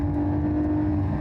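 A Porsche 911 Dakar drives off-road on dirt, its engine holding a steady, loud, close drone for a brief moment.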